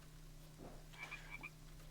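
Frogs on lily pads in The Sims 4 croak a few times in quick succession, fairly faint over a steady low hum of game ambience.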